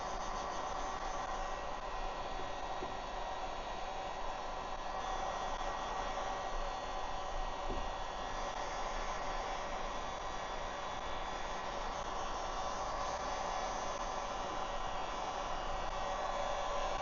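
Heat gun blowing steadily on tint film for a 2024 Toyota Tacoma tail light, a constant airy roar with a low hum, close by and unbroken throughout with no talking.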